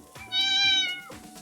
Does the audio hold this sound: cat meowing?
yes